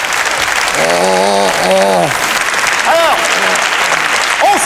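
Studio audience applause on a French television game show, steady dense clapping throughout, with a voice speaking over it.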